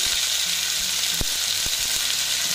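Turmeric, salt and spices fry in a pan for a dalia khichdi, a steady loud sizzle with a few clicks of stirring close by and no talk.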